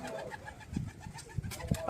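Pigeons at a fancier's home loft give soft, repeated low coos, several overlapping close by, with a brief rustle near the end.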